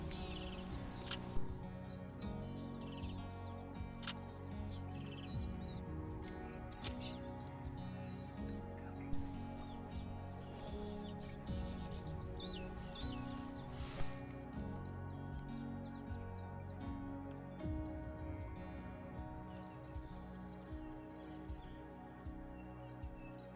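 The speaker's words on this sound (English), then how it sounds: "The bird activity quickly built into a small mixed bird party around us." Birds chirping and calling in a busy mixed-species flock along the Timbavati River in Kruger National Park, several voices overlapping with short tweets and trills over a steady low background hum.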